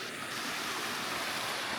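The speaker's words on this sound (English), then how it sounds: "got the running water" A soft, steady wash of flowing water in an ancient woodland park at Ewloe Castle, with a breezy, rushing quality, continuous and moderately distant.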